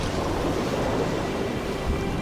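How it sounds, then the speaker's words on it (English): Water draining away in the Harvestella video game, a steady, loud rushing wash of noise that holds without a break from start to finish. "So we drained the water."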